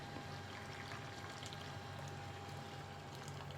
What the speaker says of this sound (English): Now we're gonna add some water.